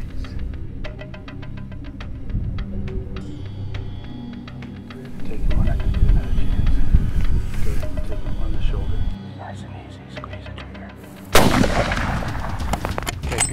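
A rifle fires at a cape buffalo during a big-game hunt in open country: a loud, sharp report, then another heavy blast later, with voices talking around the shots.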